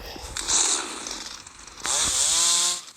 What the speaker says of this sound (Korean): 그 전기톱